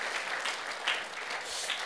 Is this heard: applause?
yes